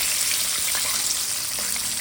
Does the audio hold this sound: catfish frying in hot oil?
yes